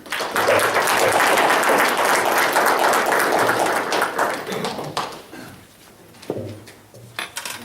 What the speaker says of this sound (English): if we can give a round of applause to Johnny Luna